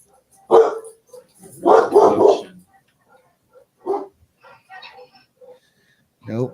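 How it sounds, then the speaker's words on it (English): Two dogs bark in short bursts, some single and some in quick doubles, spread over a few seconds. The barks are moderately loud with quiet gaps between them, and a faint whine comes at the end. "Just 2 dumb dogs barking."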